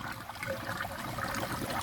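Water trickling through the filter tank of a commercial tilapia aquaponics system, a soft, continuous dribbling and gurgling at low level with no talk over it.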